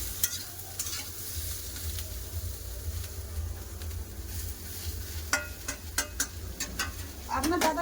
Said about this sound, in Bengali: পেঁয়াজ আর লঙ্কা দিয়ে আরেকটু লেড়ে ভেজে নেবো